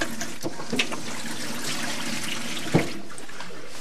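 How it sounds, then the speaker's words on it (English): A whole turkey rinsed under running water from a kitchen tap: a steady, close stream of splashing with a few brief sharper splashes and knocks along the way. "So the first step is obviously to rinse this turkey."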